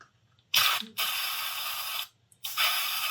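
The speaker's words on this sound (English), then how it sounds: "I'm just going to spray some blue in here." Spray can misting blue paint onto a Gundam model kit: two long, close hissing bursts, the first starting with a short sputter and the second cut off at the end, with a quiet pause between them.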